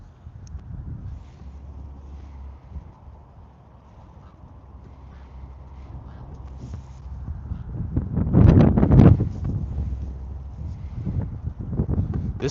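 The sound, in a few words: wind blowing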